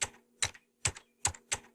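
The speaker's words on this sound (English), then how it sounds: "how much can I just show you a montage of me typing away on the computer?" Computer keyboard being typed on in short bursts, five clusters of quick clicky keystrokes spaced evenly with brief pauses between, close and clear with no talking.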